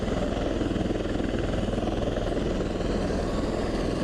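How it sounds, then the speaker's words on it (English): Military Osprey tiltrotor aircraft and helicopters roar loudly and steadily nearby as they depart, a dense continuous rotor throb with no clear voices above it. "As you can hear in the background, these choppers are loud."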